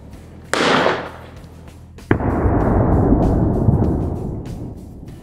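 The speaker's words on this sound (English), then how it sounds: "I'll take a small quantity and I'll ignite it to create an explosion." An ignited pocket of hydrogen foam made by water electrolysis goes off in a sharp, loud bang, followed by a long, broad roaring rumble that fades slowly over several seconds. A brief hiss comes first.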